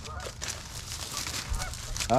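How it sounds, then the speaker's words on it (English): Canada geese honk outdoors near thin ice at a spring snow campsite in northern Illinois, repeated nasal honks at a moderate distance, growing louder at the end, with wind-like background noise. "Canadian goose, I think."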